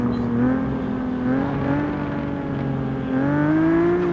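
A rear-wheel-drive car set to drift mode holds a steady engine drone with slowly shifting pitch, revving up slightly toward the end, close and alone without talk.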